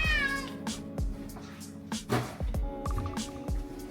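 A pet cat at home meows loudly and insistently, giving repeated drawn-out cries close by, one after another with brief gaps.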